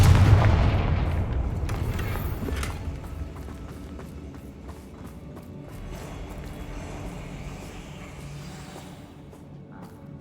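Confringo spell explosion in the Hogwarts Legacy video game, a loud booming blast at the start that fades into a rumbling decay, with faint scattered impacts afterward.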